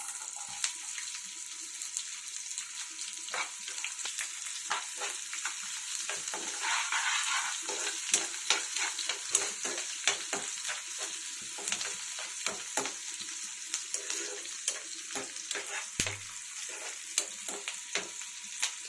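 Onions and curry leaves frying in a pan for stuffed bhindi give off a steady, fairly loud sizzle, with clicks of stirring scattered throughout and no voices.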